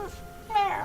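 A house cat meows right beside a desk microphone, one short, close, fairly loud cry at the end after a quiet moment.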